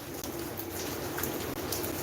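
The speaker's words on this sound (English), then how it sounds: "You're asking when was the last time it rained like this for you?" Steady rain falls during a rainy spell on a farm plot with groundnuts and passion fruit, a dense continuous hiss with a few birds cooing faintly through it, no voices.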